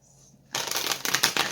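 A deck of tarot cards is shuffled close by: after a brief quiet moment, a dense, crisp rush of cards riffling and sliding lasts about a second.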